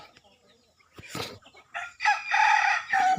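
Several chickens cluck and squawk close by, with a drawn-out crowing call near the end over quiet outdoor background.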